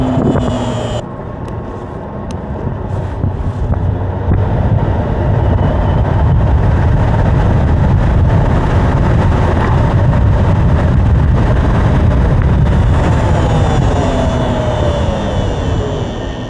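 A Sondors Metacycle electric motorcycle accelerates at speed, with a steady loud hum of motor whine and heavy wind rush continuous throughout and no talking.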